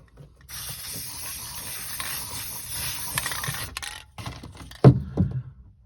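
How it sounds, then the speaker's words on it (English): An aerosol spray paint can hisses in a continuous burst for about three seconds while spraying down a hole in a 1923 T-bucket's mirror firewall, followed by a few clicks and knocks of handling. "Now I'm going to go ahead and spray paint down the hole."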